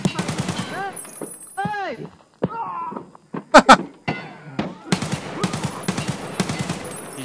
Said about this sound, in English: I was shooting these guys like